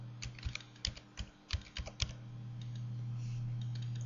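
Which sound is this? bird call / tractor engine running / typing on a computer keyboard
typing on a computer keyboard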